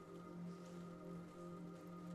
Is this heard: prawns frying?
no